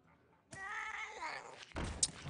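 A cat meow from the Pharaoh Cat card in Hearthstone, a single drawn-out, tonal cry in the middle of the clip. A thud and a bright chime from the game follow it.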